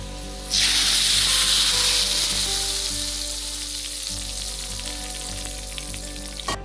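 Hot tadka poured into masoor dal bursts into a loud sizzle and hiss that slowly fades over several seconds, heard close against a steady background hum.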